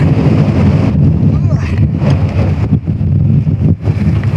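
Strong wind buffets the microphone near a summit in Connemara National Park, Ireland, a loud, continuous roar with surging gusts throughout.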